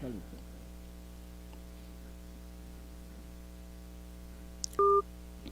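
A brief electronic telephone tone sounds near the end of a dropped call-in line on a live radio broadcast, over a steady line hum and static.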